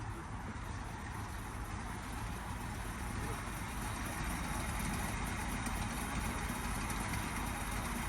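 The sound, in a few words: 1974 Ford F350 dually truck engine idling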